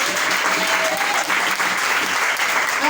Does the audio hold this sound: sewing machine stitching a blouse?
no